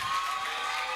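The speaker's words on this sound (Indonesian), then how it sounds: "kita tepuk tangan yang meriah untuk Ibu Ratna" Applause and cheering from an audience at a school event, greeting the deputy head for job placement and industry relations, Ibu Ratna Irawati; a steady, moderately loud wash of clapping and crowd noise with no pauses.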